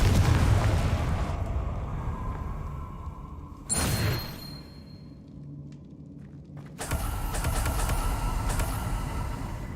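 A Confringo blasting spell from Hogwarts Legacy bursting in a loud explosive whoosh and boom near the middle, followed by a rumbling roar as the blast and game noise swell back up, with no speech.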